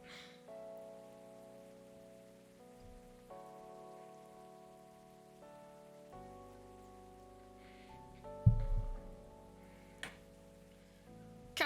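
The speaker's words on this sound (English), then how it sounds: "Oh, the rain's back." Soft rainfall from the game Coffee Talk hisses steadily behind slow, chord-based music, with a few sharper taps and knocks rising near the end.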